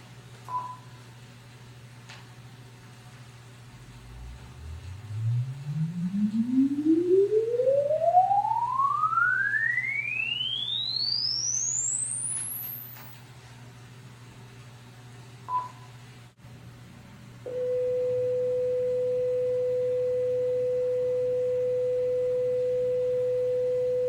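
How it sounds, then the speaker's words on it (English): A steady low hum runs under a rising sine sweep of test signals on a recording, climbing from deep to very high pitch, with brief beeps, then a constant mid-pitched tone holds to the end. "Those tones that we just heard were from a suite of test signals"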